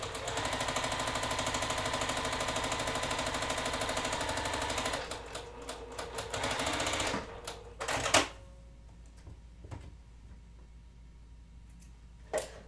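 A sewing machine stitches fabric in a fast, even mechanical rattle for about five seconds, then runs in short bursts and single clicks before stopping, with a few isolated knocks afterward.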